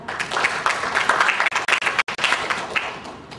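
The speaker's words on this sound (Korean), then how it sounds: "큰 박수 부탁드립니다" Audience applause at a corporate CSR presentation event, a dense steady burst of many hands clapping that breaks off briefly in a couple of short gaps before resuming, fairly loud and alone without talk.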